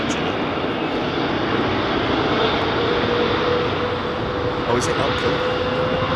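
A Virgin Airbus A330neo's engines roar at London Heathrow Airport as a steady, broad, distant rumble, while a person speaks briefly over it.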